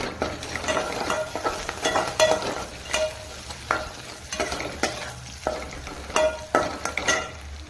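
Onions and finely chopped ginger fry and are stirred in a pan, with a steady close sizzle broken by repeated scraping strokes of a utensil against the pan, no talking.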